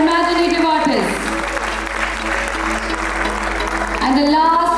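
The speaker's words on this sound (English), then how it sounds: "A round of applause for our imaginative artists." An audience at a school annual day event applauds young artists, a burst of clapping under a voice and music at the start and end.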